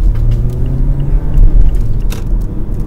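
Steady road traffic rumble along Northwest Raceway in Oklahoma, a continuous low engine drone with passing car noise close by, no talking.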